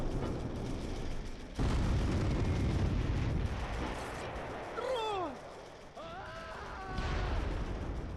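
Tank shell hits and explosions from the Close Combat III World War II strategy game, where a T-34 tank takes a hit: a loud blast rumbles, then sharp whistling and pinging effects follow with further bursts.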